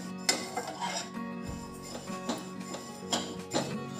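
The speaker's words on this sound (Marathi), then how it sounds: "सारखी परतवून आपण तीळ भाजून घेऊ" Sesame seeds roasting in a pan for a tomato chutney, stirred with a utensil that gives repeated scraping and light metallic taps at an uneven rhythm, close and fairly quiet.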